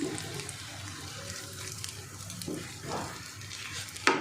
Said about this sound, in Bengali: সবগুলো কাবাব আমি ভেজে নেব